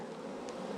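Honey bees at an opened hive during a split into nucs make a continuous close buzzing drone that stays steady and fills the brief moment.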